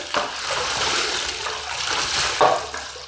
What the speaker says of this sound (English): I poured some water over my head